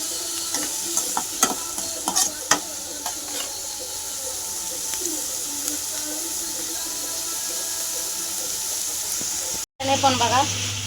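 Finely chopped large onion frying in hot oil, a continuous sizzle with sharp crackles and stirring clicks early on, steady and close before a brief cut near the end.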